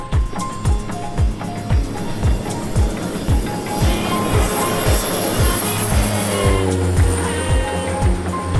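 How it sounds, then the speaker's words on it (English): A propeller airplane taking off from the runway on Contadora Island, Panama, its engine droning loudly with a rapid rhythmic pulsing beat that swells and shifts in pitch as it gathers speed, close by and continuous. "we're gonna watch this plane take off"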